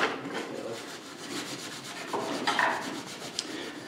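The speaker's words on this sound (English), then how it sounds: "We'll use steel wool on one and the polishing wheel on the other one." Steel wool rubs back and forth over old, dull motorcycle chrome in quick rhythmic strokes. The scratchy rasping sits close and moderately loud, with no talking.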